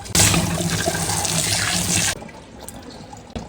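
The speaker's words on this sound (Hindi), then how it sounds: "तो इसलिए जल्दी से मैं इसे धोती हूँ" Tap water running over a fresh pumpkin being washed, a loud splashing gush that cuts off sharply partway through, leaving a quiet room with a small knock.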